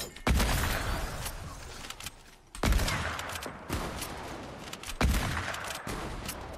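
Three loud sniper rifle shots in the Fortnite video game crack out at even intervals about two and a half seconds apart, each a sharp blast with a short ringing tail.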